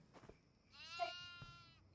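A goat in the horror video game Devour gives a single clear bleat lasting under a second, with soft thuds and clicks around it and no talking.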